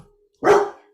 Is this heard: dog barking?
yes